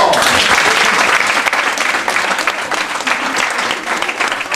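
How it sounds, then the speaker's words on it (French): Loud, sustained applause from a large crowd, dense clapping that holds steady throughout with no break. "Applaudissements."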